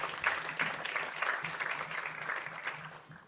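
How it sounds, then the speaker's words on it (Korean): Audience at a 2014 conference applauds to welcome a youth solidarity bank representative, a steady moderate clapping from a room-sized crowd lasting throughout, slightly distant. "박수로 맞아주세요."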